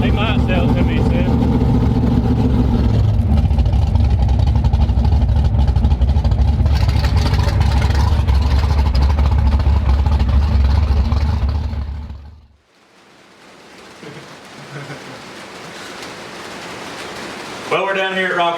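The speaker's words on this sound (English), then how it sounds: "It's idling awesome, it ain't surging no more" A car engine fitted with a new carburetor idles loudly and steadily for about twelve seconds, then cuts off abruptly, leaving quieter background noise with a brief rising whine near the end.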